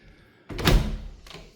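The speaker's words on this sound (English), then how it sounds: "this area has got double doors out to a terrace with this view" Double doors swing open from a renovated French home onto a terrace, a single close thunk and rattle of hardware followed by a softer second knock.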